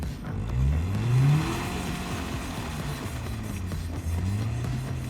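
A Tinger TF4 Pro articulated ATV drives through holes in a bog mat into swampy mire, its engine revving up and then settling to a steady mid-pitched drone, fairly close and without speech.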